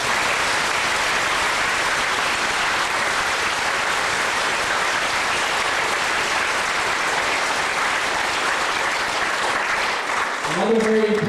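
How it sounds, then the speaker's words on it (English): A live audience claps in a sustained round of applause for a boy's father at a wish-trip event in Cornwall, Ontario, the dense clapping steady and loud throughout before tapering at the very end. "Can you give him a round of applause?"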